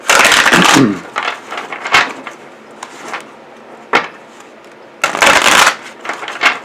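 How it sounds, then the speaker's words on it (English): Oracle deck cards being shuffled and pulled during a full moon tarot-style reading, with loud bursts of riffling at the start and end, a few sharp taps and slides between them, and no talking. "So I'm just going to pull a few cards from here."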